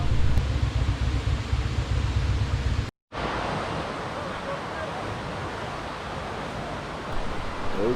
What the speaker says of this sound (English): I'm hearing the water sounding a little more louder, so I know we're near.